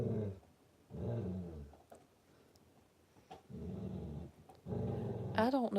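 A dog growls and grumbles in several low, rumbling bursts, close by and fairly quiet indoors, ending in a short higher whine or yelp.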